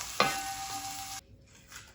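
Bitter gourd (karela) fries in a pan with a sharp burst of sizzling as it goes in, then a steady hiss that cuts off abruptly, followed by faint crackling.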